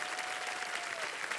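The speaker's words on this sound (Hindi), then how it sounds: "एक बार बुमराह जी के लिए जोरदार तालियां" Studio audience on the Kaun Banega Crorepati set applauding, a dense steady burst of clapping from many hands with a faint voice underneath.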